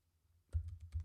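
A URL being typed on a computer keyboard: a quick burst of about five soft, close keystroke clicks after a moment of near silence.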